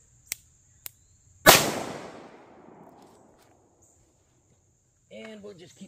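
A single gunshot from a Smith & Wesson revolver firing a Hornady XTP round rings out sharply, then decays in a long, echoing tail, preceded by two faint clicks and followed by brief talk.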